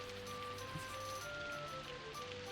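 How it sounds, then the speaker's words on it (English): Steady rain falling in the video game Daggerfall, a continuous soft hiss of drops with faint tonal background music running beneath it throughout. "we wait for the rain to stop"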